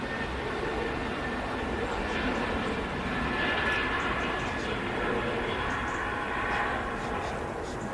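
An easyJet A320neo-family airliner rotates and climbs away on takeoff at Manchester Airport, a steady broadband jet roar heard from a distance that holds constant throughout, with faint voices beneath it.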